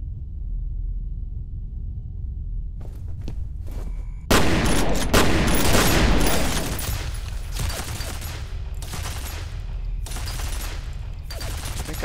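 Gunfire in the shooter game F.E.A.R. comes as low rumbling, then a sudden loud burst of rapid shots and crackling impacts, followed by scattered, fading reports.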